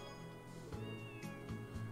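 Black cat in the video game Trails to Azure, a few short meows over steady background game music.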